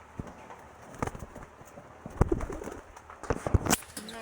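Pet pigeons cooing in a loft, soft low coos mixed with wing flutters and light knocks, fairly quiet and without talk.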